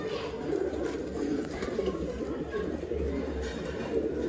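Pigeons coo in low, rolling, repeated calls that continue throughout at close range, with faint background murmur but no clear speech.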